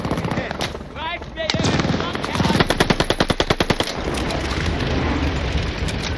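A turret machine gun fires in the video game Call of Duty Vanguard: a rapid, evenly spaced burst of loud shots over about two seconds, framed by other battle noise and brief voices.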